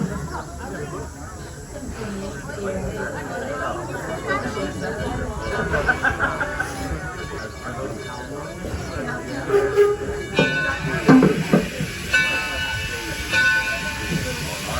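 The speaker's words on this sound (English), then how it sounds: "So sit back and enjoy your train ride." A train rumbles and rolls along with low steady noise, a hiss, and occasional squeals and clanks, while people chatter in the background.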